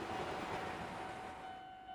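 A train rolls past at a railway crossing in a horror video game, a steady broad rumble and rush with a faint clickety-clack, fairly quiet and alone, fading slightly toward the end.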